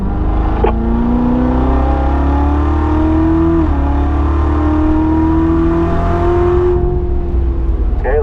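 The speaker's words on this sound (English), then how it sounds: "now straighten out and accelerate" Car accelerating hard out of a curve on a race track, the engine note climbing steadily and loudly through the revs, then a brief drop as it shifts up and keeps pulling.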